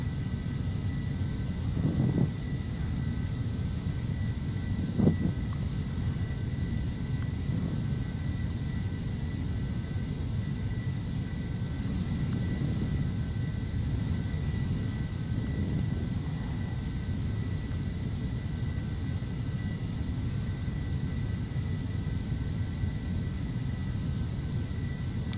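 Steady cabin roar inside a Phenom 300 business jet in flight, a constant broadband rush with a faint high whine and a couple of soft clicks, no talking.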